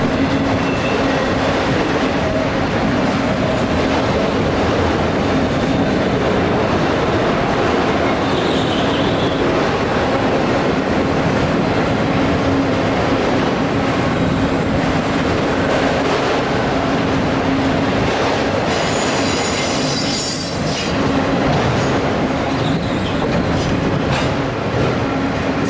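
A long freight train led by three locomotives rolls past at a distance near Allentown, a loud continuous rumble with steady clickety-clack of wheels on rail joints and a brief squeal near the end, no voices.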